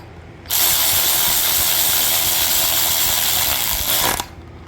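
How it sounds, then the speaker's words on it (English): A power ratchet tightens cylinder head bolts on a 6.0 Vortec engine, giving one loud, steady mechanical whir of about four seconds that starts and stops abruptly, close up and without talk. "This ratchet only does about 30 foot-pounds, so we'll do the first pass about 30 foot-pounds."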